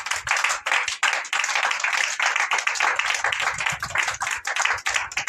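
A church congregation claps loudly and steadily together in acclaim of the Lord, a dense, continuous wash of many hands with a brief voice faintly beneath.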